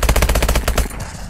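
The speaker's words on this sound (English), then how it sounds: "We're gonna shoot from up here first." Rapid automatic gunfire from the Call of Duty: Advanced Warfare video game rattles off in a loud, close burst of evenly spaced shots that stops abruptly, leaving a short fading tail.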